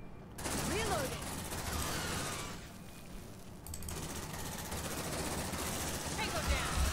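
Suppressive gunfire rattles in Aliens: Dark Descent, sustained automatic bursts under a combat soundscape, dropping briefly before resuming at a steady, moderately loud level, with voices speaking over it.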